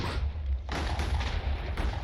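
TNT explosions in the Minecraft video game, heavy low rumbling booms that roll continuously and overlap, loud and close, with a sharper burst partway through and no voices.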